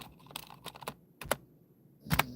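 Computer keyboard typing, scattered close key clicks with a couple of sharper taps, unhurried and uneven in rhythm.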